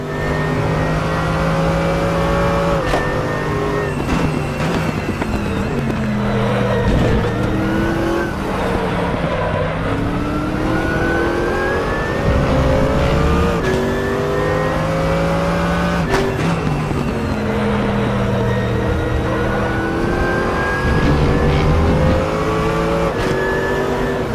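Multiple GT3 race car engines drone and rev continuously in the RaceRoom racing game, with rising and falling pitch sweeps as gears shift, a dense pack of cars running close together at steady high volume.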